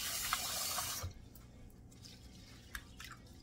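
Four cups of glutinous sticky rice being washed by hand in water: a loud, steady wet swishing and rubbing for about a second, then quieter drips, clinks and small splashes.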